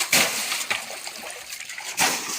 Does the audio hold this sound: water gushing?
yes